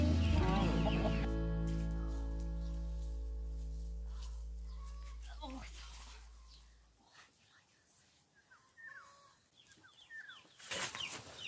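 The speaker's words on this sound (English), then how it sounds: "We got some chickens." Chickens cluck softly in the background in rural Bulgaria while people talk nearby, the calls coming in scattered bursts.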